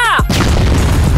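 A brief shouted voice, then a grenade blast in the shooter game CrossFire bursts in loud and close, trailing off into a rumbling, crackling tail.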